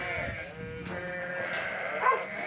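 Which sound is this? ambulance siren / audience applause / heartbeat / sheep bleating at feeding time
sheep bleating at feeding time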